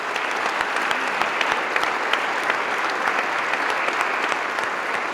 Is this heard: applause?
yes